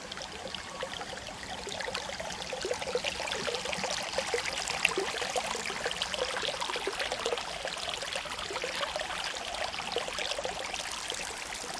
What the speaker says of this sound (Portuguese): porque a água escorre aqui por este canal,